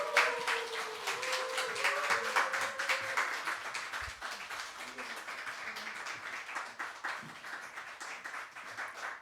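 A church congregation at a Sunday united service claps to welcome a missionary. A voice briefly carries over the clapping at the start, then fairly soft, steady applause continues with a rapid, even patter.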